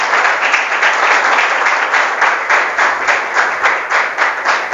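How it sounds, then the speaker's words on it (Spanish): A church congregation claps loudly together, sustained, dense applause filling the whole stretch with a steady rhythmic pulse and no talking over it. "Dale un fuerte aplauso al Señor."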